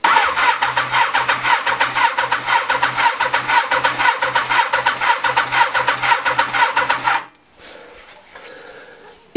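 Honda CBR 1000F SC24 engine cranking over on the starter with the throttle held wide open during a compression test, a loud steady rapid churning rhythm for about seven seconds that stops abruptly, followed by quiet room noise.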